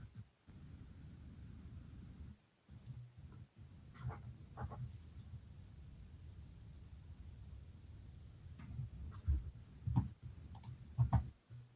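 Someone types on a keyboard during an online Senate session stream, giving faint, scattered clicks that come in sparse clusters over a low background rumble.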